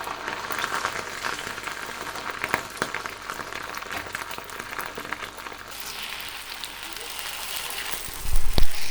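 Rice and gram flour fritters (garelu) mixed with egg and curry leaves sizzle steadily in hot oil, a continuous crackling hiss with a brief louder rumble at the end.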